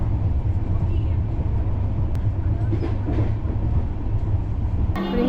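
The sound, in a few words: Kovai Express train travelling from Chennai towards Salem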